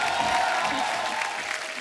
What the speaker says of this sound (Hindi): आप सबकी जोरदार तालियों के बीच बुलाता हूँ